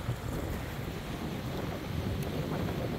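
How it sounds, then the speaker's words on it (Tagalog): Cold wind buffeting the microphone on the coast at Kaikoura, New Zealand, a rough continuous rumble with gusty swells, moderately loud and steady, with no speech. "Windy."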